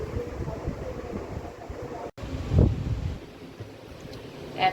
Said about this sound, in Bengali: খুব ভালো হাওয়া দিয়েছে, ঝড় মনে হচ্ছে ঝড় উঠবে